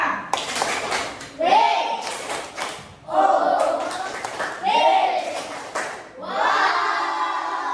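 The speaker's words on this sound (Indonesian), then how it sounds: "Tepuk tangan untuk kita semua" Schoolchildren in an elementary school classroom clap together in loose rhythmic bursts, mixed with a teacher's voice and the children's voices chanting along.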